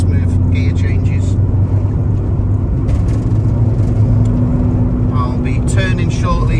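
A 1990 VW T25 Autohomes camper van with a gas conversion drones along from inside the cab, a low, steady engine rumble under a person talking throughout.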